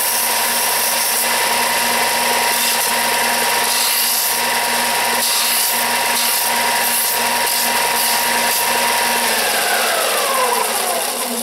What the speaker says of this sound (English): round off the outside corner there and grind off the lip that got created on the bottom there